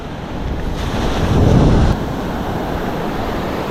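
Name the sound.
ocean waves breaking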